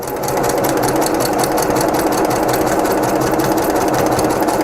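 Sewing machine stitching a tote bag seam from 5-inch squares, a loud continuous rapid rattle of the needle running steadily and close up throughout, with no talk.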